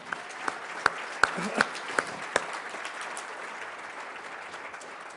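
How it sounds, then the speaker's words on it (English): An audience at a gala claps in a moderate, sustained round of applause, with a few sharper individual claps standing out early on. "we need to give a round of applause to Anna for that."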